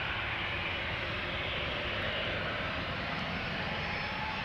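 A KLM Boeing 737-700 jet departing on the flight to Göteborg gives off a continuous, close and loud engine roar with a broad hiss over it.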